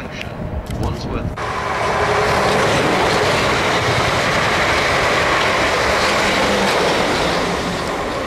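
A train passes through Queenstown Road station in Battersea, opening with a brief clatter and then growing into a loud, sustained rumble and roar of rolling wheels close by, holding steady to the end.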